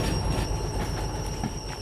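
A freight train braking in the Derail Valley simulator, wheels squealing in a high sustained whine over a low rumbling roll and faint clattering, continuous and close.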